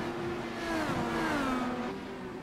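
Race cars lapping a circuit during a race, a steady engine drone with rising and falling pitch as cars pass, continuous and moderately loud.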